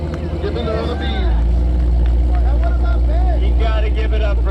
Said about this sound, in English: You gotta give it up for that engine roar.